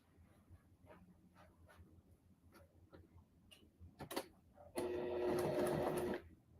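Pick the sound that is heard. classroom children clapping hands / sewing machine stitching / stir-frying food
sewing machine stitching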